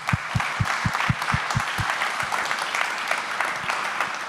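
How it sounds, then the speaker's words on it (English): Audience at a Lithuanian–Dutch foreign policy and security conference applauds the speakers, a dense steady round of clapping from a hall crowd with a few distinct near claps standing out, sustained throughout. "please join me in a round of applause to our speakers"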